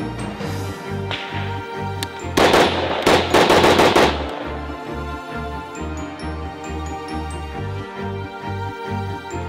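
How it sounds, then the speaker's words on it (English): A firearm fitted with a CMC 3.5 lb flat trigger fires a rapid string of loud, sharp shots at a range, a tight burst of cracks over a steady mechanical rhythm. "So we're gonna go ahead and shoot this thing some more"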